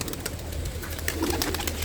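Pigeons kept as a hobby flock coo in soft, low, rounded calls over a steady background murmur, close by and fairly faint, within a brief stretch.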